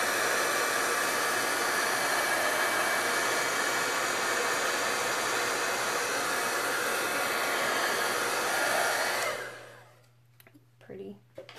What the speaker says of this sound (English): I'm going to hit that with the heat tool one more time